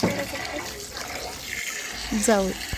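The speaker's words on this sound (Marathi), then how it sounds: "पुन्हा दुसऱ्या पाण्याने मी स्वच्छ धुवून घेत आहे" Running water splashes and trickles steadily, with brief clattering of something being rinsed and a short voice-like tonal sound near the end.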